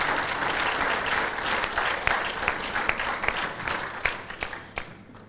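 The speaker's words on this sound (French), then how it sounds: "Merci, applaudissez une fois de plus pour ce chef-d'œuvre." A ciné-club audience applauds after a film screening, sustained clapping that thins out toward the end into scattered individual claps before dying away.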